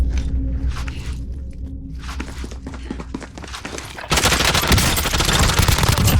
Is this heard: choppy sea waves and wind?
no